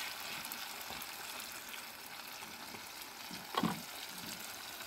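Oil for sambal terasi sizzles and crackles steadily in a pan, with one louder stir or splash partway through.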